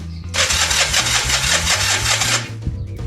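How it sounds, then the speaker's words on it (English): Old Kawasaki motorcycle engine, left unrun for about 30 years, fired on the carburetor, catching and running roughly with a loud uneven chatter for a couple of seconds before dropping away. "see if we can get it to start on the carburetor"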